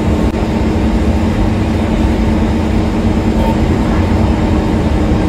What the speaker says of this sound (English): This train terminates here.